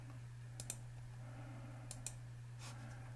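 A few sharp computer mouse clicks in pairs, quiet and close, spaced over a few seconds against a steady low hum, with no talking.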